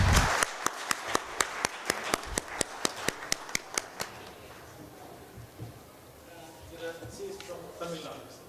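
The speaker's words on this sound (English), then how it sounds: "please give a big round of applause" Audience applause for an award winner at an agriculture program launch event, a sparse group of rhythmic hand claps lasting about four seconds before fading into room noise and a speaking voice.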